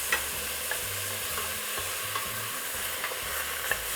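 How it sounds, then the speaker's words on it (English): Tomatoes saute in a pan for a Vietnamese crab, pork and tomato noodle soup. A soft, steady sizzle runs under light scraping stirs and occasional clicks of a utensil, with no talking. "Then add in our tomatoes here. Gonna let that saute for a couple of minutes."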